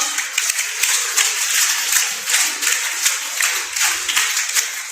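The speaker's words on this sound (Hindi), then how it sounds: "अपने लिए 3 ताली, गो।" A group of students at the Tata Workers Union School applauds themselves at an army officer's prompt, a steady wash of clapping filling the room at close range before tapering slightly.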